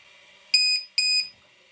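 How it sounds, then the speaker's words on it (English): Lipo battery checker alarm on an Arrma Kraton 1/5 8s EXB RC car sounds two loud, high electronic beeps, each roughly a quarter second long, separated by a short gap, with no talking. "The lipo checker and alarm is also working."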